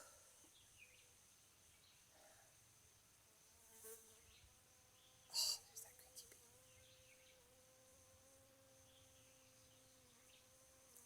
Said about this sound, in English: I think it's a queen bee.